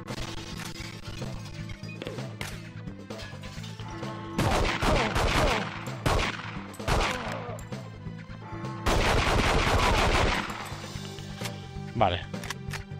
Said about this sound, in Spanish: Un rifle francotirador.